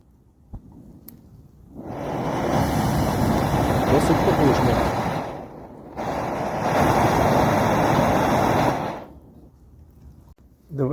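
Terra Incognita TAIS Reduktor camping gas burner running, a steady loud roaring hiss that starts, holds for several seconds, briefly cuts out, then roars again before shutting off.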